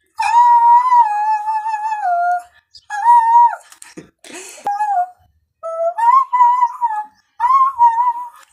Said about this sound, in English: I can do whistle note.